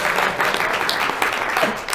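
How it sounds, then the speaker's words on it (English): Conference audience breaks into applause at a sustainability talk, a brief burst of dense, evenly sustained clapping from many hands, loud and close. "Applause."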